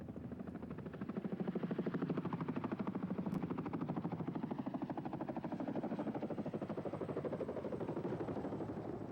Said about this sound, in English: the larger Chinook helicopters carrying additional fuel